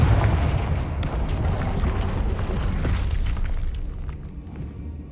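A Confringo fire spell blasts in the game Hogwarts Legacy, giving a loud, deep, rumbling explosion that fills the start and slowly fades, with crackling debris following and no talk.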